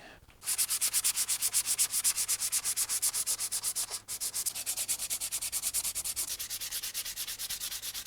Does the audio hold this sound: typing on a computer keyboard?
no